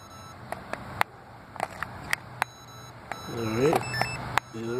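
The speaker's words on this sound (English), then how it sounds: "It's beeping." A Sky Viper Hoover Racer drone and its controller beep while linking up, giving a string of short, sharp, irregular electronic bleeps, while someone talks close by.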